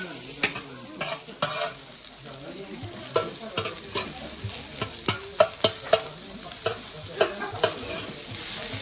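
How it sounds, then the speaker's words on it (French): Onions frying in oil in a large pot, a steady close sizzle broken by repeated scraping and stirring clatters of a utensil against the pot, with no talking. "mettre un petit peu d'huile dedans, et puis après, là, on peut revenir les oignons comme ça"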